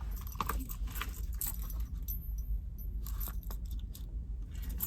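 Keys jangle and clink inside a small key pouch in a Gucci padlock bag, a few close, bright rattling bursts over quiet background.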